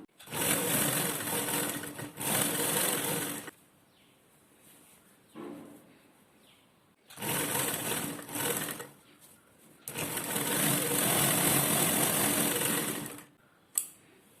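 A sewing machine stitches a lined jacket sleeve in several loud bursts of rapid whirring, separated by quiet pauses, with a sharp click at the very end.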